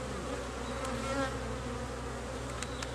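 Honeybees buzz steadily from an open hive during a beekeeping split, a dense, continuous drone with a few brief louder passes of individual bees near the microphone; no one talks.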